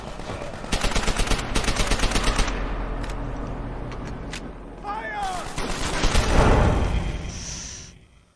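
Rapid gunfire from the video game Call of Duty: World at War, dense bursts of shots through the first few seconds, then a louder rumbling blast near the end, with voices talking over the battle.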